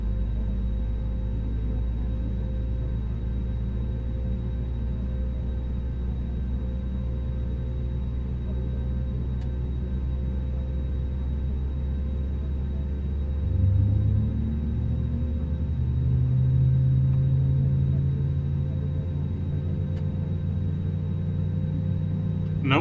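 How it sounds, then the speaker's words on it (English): Steady low jet engine rumble of an Airbus A330-900neo in Microsoft Flight Simulator, with a constant hum, rising slightly as the second engine spools up partway through; no talking. "Let's start engine number 2. Nice, big, beautiful engines."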